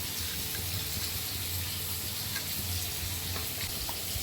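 Soybeans fry in a pan with a soft, continuous sizzle, a fairly faint, even hiss that holds steady without distinct pops or stirring.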